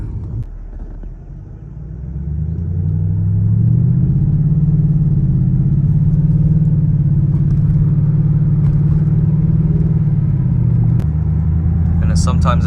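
Customized Mercedes CLS with aftermarket exhaust heard from inside while driving, a deep steady engine drone that swells as the car accelerates and holds a loud low rumble before easing off near the end.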